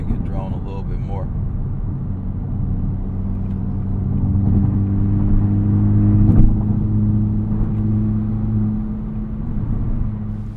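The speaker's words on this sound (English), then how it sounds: "adding more throttle is going to make it drone a little bit more." A steady low exhaust drone hums under a cruising Acura Integra Type S with a Milltek catback exhaust, swelling slightly as throttle builds midway, with a brief voice at the start.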